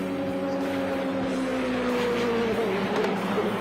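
A Porsche race car screams around Sydney Motorsport Park on a record time attack lap, its engine a constant, strong drone that slowly falls in pitch, with no talking.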